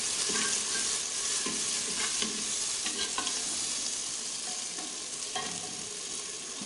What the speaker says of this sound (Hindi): इसके अंदर ये डालेंगे टमाटर जो हमने काट के रखे थे, और इसको मिक्स करेंगे।